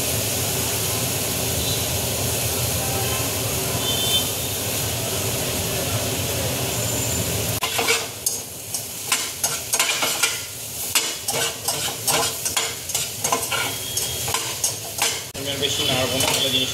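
A spoon stirs soybean bata paste, a ground soybean mixture with soaked tamarind water and gondhoraj lime juice, in a pan on the stove. A steady sizzling wash gives way to scraping and clinking stirring strokes that sound close and fairly loud.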